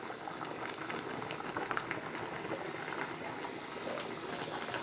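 About a litre of oil heats in a wok over a full flame for a commercial meat dish, giving a steady, dense bubbling and sizzling hiss at moderate volume with no talk.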